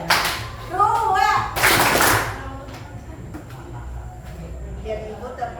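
A classroom of children claps together on cue, a short burst of unison clapping that follows brief talking, then quieter room murmur.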